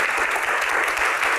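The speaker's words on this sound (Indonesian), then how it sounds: "Tepuk tangan ya" Dense, steady applause from an audience at a book Q&A session, sustained and close for the whole moment with no talk over it.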